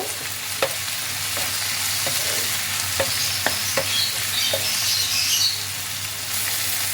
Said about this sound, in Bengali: টমেটো কুচি আর দিচ্ছি কাঁচা লঙ্কা এই সব কিছু দিয়ে আবারও একটু ফ্রাই করে নেব